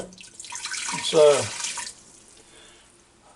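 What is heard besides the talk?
hot water poured into an Instant Pot Duo Crisp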